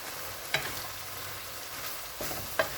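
Green peas and carrots cooking in a pan, a soft steady sizzle with two brief scraping stirs, close by and fairly quiet, no voices.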